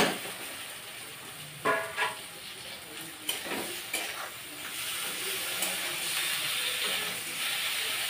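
Meat frying in a pan with already-fried onions in a home kitchen, a steady loud sizzle and hiss with a few clattering stirs and scrapes early on.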